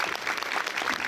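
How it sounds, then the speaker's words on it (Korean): Brief burst of steady audience clapping at a film screening and guest talk in a cinematheque, dense and even throughout. "아무튼 두 분께 큰 박수 들으면서 마무리하겠습니다."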